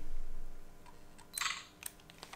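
A modified, circuit-bent digital camera taking a selfie, heard as a faint low hum that fades, then a sharp close click with a short whirring burst, followed by a few small switch clicks.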